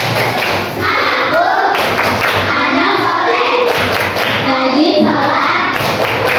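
Group of schoolchildren in a classroom doing a rhythmic patterned hand-clapping chant during an Islamic religious education lesson, steady sharp claps and slaps filling the room with young voices chanting along throughout.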